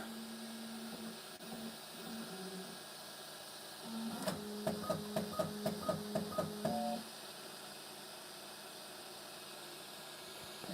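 A Bambu Lab X1 Carbon 3D printer runs with a steady fan hiss, stepper motors humming in tones, and then a rapid series of rhythmic clicking, chirping motor pulses for a few seconds before settling back to the fan noise.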